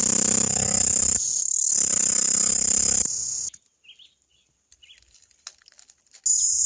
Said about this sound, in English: This is one of several species of cicadas found in the island of Jamaica.